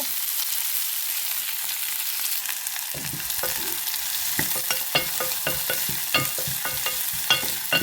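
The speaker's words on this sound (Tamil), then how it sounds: "உள்ளியை போட்டுட்டு இப்போ வெங்காயத்தை போடுறேன்" Garlic and onion frying in a pan for a Tamil brinjal curry, a soft steady sizzle that swells after a few seconds into bright crackling with scattered spatters and stirring scrapes close by, no voices.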